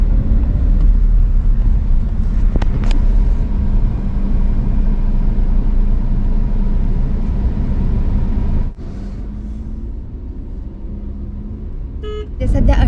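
Road traffic on a busy bridge near Mahad with vehicles backed up: a continuous engine rumble with a few brief horn toots, someone talking over it throughout, and the noise dipping briefly near the end.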